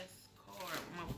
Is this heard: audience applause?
no